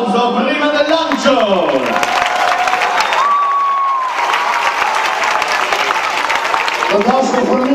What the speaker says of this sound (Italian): Io direi di fare un applauso prima del lancio.